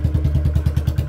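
A Royal Enfield Bullet 350 motorcycle idling close by, its single-cylinder engine thumping in a quick, even, loping beat with a deep low rumble and light mechanical clatter.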